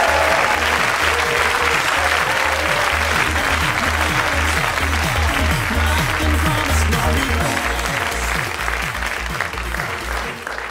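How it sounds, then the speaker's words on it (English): A television studio audience claps and cheers loudly for a guest introduced as France's second best racing driver, sustained dense applause over a rhythmic music beat that gradually fades toward the end. "Please give a loud cheer and cri de coeur for second best French racing driver, Le Très Bon Michel Lambert."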